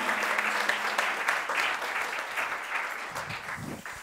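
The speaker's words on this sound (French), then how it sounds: "on peut l'applaudir" Audience applause at a foundation's televised stage event, a broad wash of clapping that holds steady and slowly thins toward the end, with faint voices underneath.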